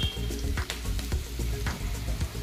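Carrots frying with browned onions in a pan for khichdi pulao, a loud close sizzle punctuated by repeated thumps and scrapes of a spoon stirring the vegetables.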